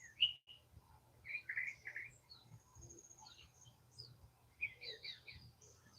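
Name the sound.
birds singing at dawn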